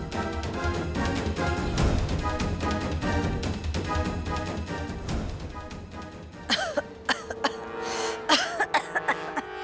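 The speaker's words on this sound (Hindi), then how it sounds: "वो तड़के से माँ को खांसी आ गई तो बस।" Music plays for several seconds, then a run of short, harsh coughs breaks out in quick bursts, fairly close.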